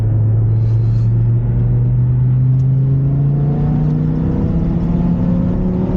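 A BMW E60 M5 with its V10 engine pulls hard on a straightaway, a loud close droning rumble rising steadily in pitch as it accelerates, with no talking.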